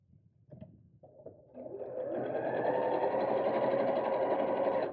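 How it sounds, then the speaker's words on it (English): A sewing machine starts with a few slow clicks, then speeds into a steady, fast whirring stitch that runs on evenly, close by. "I'm going to sew across that fabric there"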